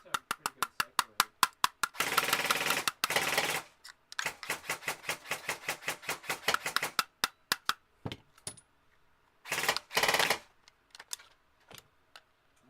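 Airsoft gun firing rapid bursts of rounds at a quick cycle rate, crisp repeated snapping shots in long and short strings with brief pauses, close and loud in a quiet room.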